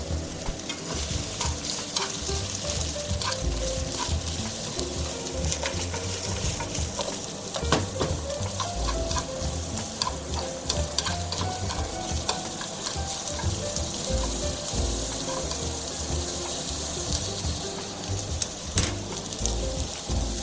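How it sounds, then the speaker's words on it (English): Onions frying slowly in a pan at home, a steady, moderately quiet sizzle with scattered stirring clicks and scrapes that carries on for about twenty seconds, with no voices. "Onions, slowly. I want to fry it until it turns amber."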